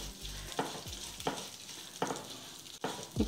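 Sesame seeds, with peanuts and curry leaves, toasting in a pan for curry leaf rice: a soft steady sizzle and crackle with regular scraping strokes as they are stirred, close and quiet, no talk.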